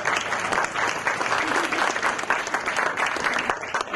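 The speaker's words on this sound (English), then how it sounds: "You can clap for that." Audience applause at a hospital groundbreaking ceremony in St. Clairsville, a steady dense round of clapping from a crowd filling the whole stretch at even loudness.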